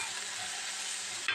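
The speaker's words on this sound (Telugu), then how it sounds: "ఇదిగోండి ఉల్లిపాయలు అయితే ఫ్రై అయిపోతుంది." Onions sizzle steadily in a hot pan with a continuous bright crackle, close and fairly loud, briefly shifting near the end as they are stirred.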